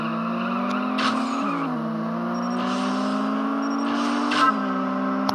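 Race car engine in the CSR Racing video game drones steadily throughout, with its pitch dipping and shifting through gear changes as the car launches, plus brief higher whooshes over the continuous engine tone.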